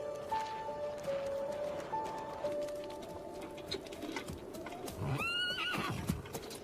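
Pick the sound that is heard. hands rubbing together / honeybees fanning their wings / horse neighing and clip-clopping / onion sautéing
horse neighing and clip-clopping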